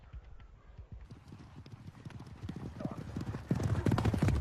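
Horses gallop in a jousting charge, hooves pounding in a fast, building rhythm that grows louder and closer, with a voice speaking over the hoofbeats.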